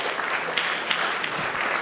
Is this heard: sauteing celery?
no